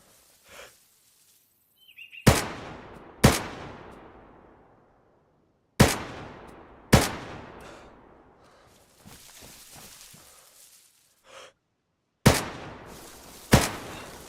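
Gun blasts from a player's weapon in a video game fire in sharp, loud single reports, some paired, with quiet gaps and faint shuffling movement between shots.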